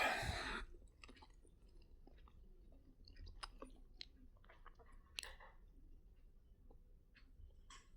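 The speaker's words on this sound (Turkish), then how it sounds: "Koridorda kıtır kıtır sesi geliyor." Faint, irregular crunching and clicking of cats chewing dry kibble in a corridor, scattered over a quiet background.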